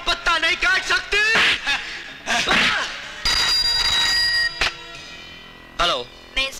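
An old-style telephone bell rings in a sharp burst in an office scene of a Hindi comedy film, sounding after several bursts of laughter and talk, then fading out.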